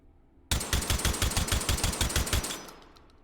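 A suppressed SPAS-15 shotgun in the VR game H3VR fires a rapid string of about a dozen close, evenly spaced muffled shots, then the echo dies away into quiet.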